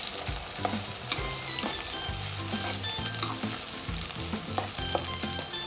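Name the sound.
green chilies and onion frying in hot oil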